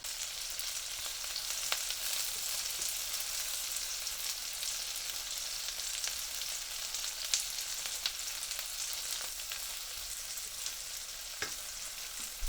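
Tofu pan-frying in oil over turned-up heat makes a steady, even crackling sizzle for the whole stretch, with only faint occasional pops and no voices.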